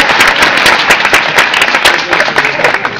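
An audience at a civic gathering bursts into loud, dense applause, many hands clapping close and continuously for the whole stretch, with occasional crowd voices mixed in.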